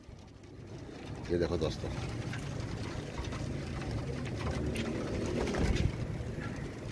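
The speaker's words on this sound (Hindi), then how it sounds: "एक दो कबूतर पकड़ के दिखाता हूँ।" Royal Teddy breed pigeons cooing inside a loft, low murmuring coos and rustling of wings heard close by beneath someone talking throughout, with a brief flurry of fluttering midway.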